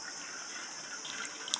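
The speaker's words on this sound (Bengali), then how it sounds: "আলুগুলো ভালো করে জলের মধ্যে ধুয়ে উঠিয়ে নিচ্ছি।" Potatoes for a Bengali mutton curry being rinsed in a bowl of water, a steady soft splashing and trickling with a faint clink near the end, no talking.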